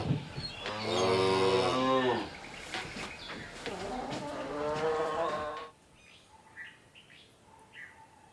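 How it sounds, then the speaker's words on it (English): A cow moos twice in long, loud, drawn-out calls, the second slightly shorter, followed by quiet background with faint bird chirps. "That's right, it's a cow."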